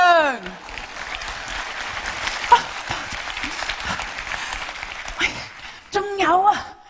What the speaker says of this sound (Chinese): 表演完毕，请鼓掌。